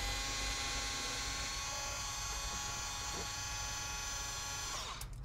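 Power drill spinning out 5.5 mm bolts while a Ford Flex front bumper is removed, a continuous high whine held steadily up close before cutting off at the end.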